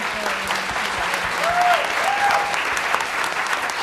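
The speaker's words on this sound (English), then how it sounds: "Can we have a round of applause for all of them?" A dense round of audience applause at an awards event honoring challenge winners, loud and sustained throughout, with faint tonal squeaks and murmurs mixed into the clapping.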